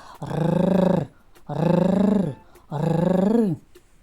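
A voice imitates a tiger's growl as a rolled R, three long rumbling trills in a row with short pauses between them, close and clear.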